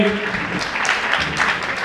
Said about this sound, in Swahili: Nimrod Joseph Patishayo, weka makofi kwa ajili yake